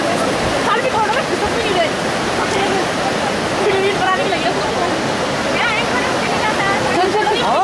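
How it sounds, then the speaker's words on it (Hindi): Floodwater rushes loudly and continuously through a town during an Uttarakhand flood, a dense roaring torrent with agitated voices shouting over it throughout. "अंदर आ गया पानी, अभी अंदर आ गया,"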